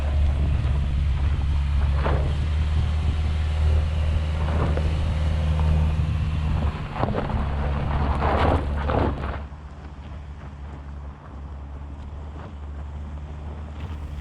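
A Subaru with symmetrical all-wheel drive and X-Mode crawls along an uneven off-road trail, its engine a steady low rumble under wind buffeting the microphone, with occasional knocks and creaks from the suspension.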